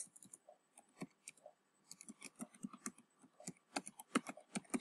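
Rapid clicking of keys on a computer keyboard while working in an Excel spreadsheet, an irregular patter of close, crisp taps with brief pauses.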